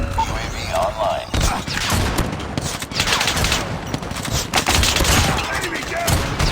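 Marksman rifle fire in a military shooter video game, loud rapid overlapping gunshots with busy battle noise and in-game voice callouts throughout.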